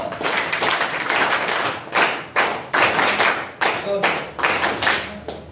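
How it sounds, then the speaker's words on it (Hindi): A group of students at a school training session clap together in short bursts, a series of sharp, loud claps separated by brief pauses, with some voices mixed in. "एक ही बार सिंगल क्लैप मारने से रोक देना"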